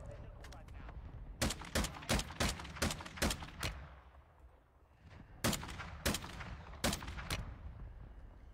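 Gunfire in the video game Battlefield: sharp, loud shots in rapid bursts of several rounds, a pause, then another volley, with a speech-like layer present throughout.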